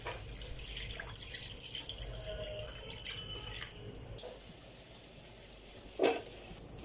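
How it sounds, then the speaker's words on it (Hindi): Water pours from a tap onto chicken pieces and spices in a pot for yakhni, a soft continuous splashing with drips, faint and close, rising in a brief louder gush near the end. "यखनी के लिए पानी ऐड करेंगे।"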